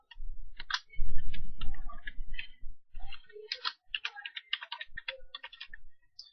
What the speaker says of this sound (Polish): Najpierw wpisujemy nazwę swojej modyfikacji